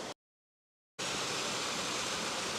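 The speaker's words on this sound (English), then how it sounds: "It's a pretty waterfall." Steady rushing roar of Hickey Gap waterfall, broad and continuous, cut by a brief silent gap near the start before resuming at full strength.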